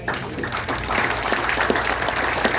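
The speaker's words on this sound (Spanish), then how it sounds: "Alguien da un aplauso." Church congregation applause, a dense, even wash of many hands clapping at moderate loudness throughout, with no speech on top.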